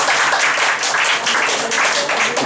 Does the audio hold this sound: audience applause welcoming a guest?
yes